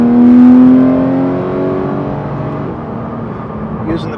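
A Porsche GT3 RS engine revs loudly with a strong whining tone as it downshifts through the paddles, the pitch sliding and the volume easing off, with brief talk near the end.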